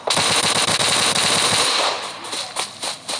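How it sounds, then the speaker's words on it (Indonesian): A rapid burst of video-game machine-gun fire in PUBG Mobile on the Sanhok map rattles loudly for over a second, followed by scattered, quieter shots and clatter. "ada yang bertembak-tembakan ya dari Falcon ya nomor 13"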